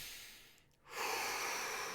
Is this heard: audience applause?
no